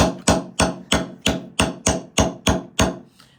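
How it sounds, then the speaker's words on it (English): A chasing hammer strikes wire on a steel bench block in nine steady, evenly spaced metallic taps, close and loud with a short ring after each, the last one softer. "you use a chasing hammer, a bench block, and it's just this simple"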